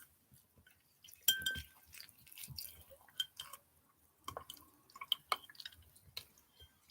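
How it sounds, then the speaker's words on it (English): Rag being rinsed in water, scattered drips, splashes and light clinks, close and quiet with pauses between. "I'm gonna rinse this rag."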